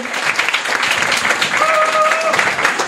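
Listeners at a live beer podcast recording applaud, a continuous patter of many hands clapping close by, with a brief whistle-like tone rising partway through.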